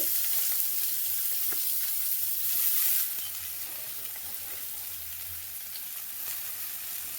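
Chopped spinach leaves hit a hot pan and sizzle, starting as a louder, bright hiss that eases after about three seconds into a steady, quieter frying crackle, close and without talk.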